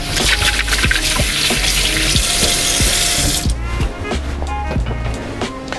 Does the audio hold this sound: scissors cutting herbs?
no